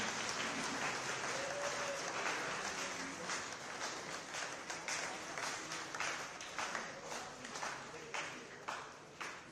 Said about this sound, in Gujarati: જોરદાર તાળીઓથી આપણે વધાવી લઈશું સાહેબનો.